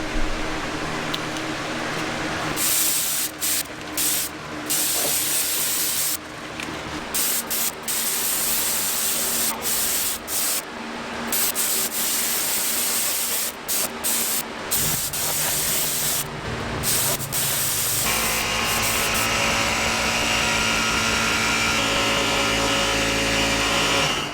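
A spray gun lays clear coat on parts from a wrecked Honda CBR600RR, a loud continuous hissing blast in long bursts with brief pauses, over the hum of a fan.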